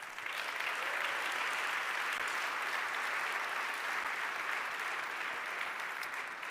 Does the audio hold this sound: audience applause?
yes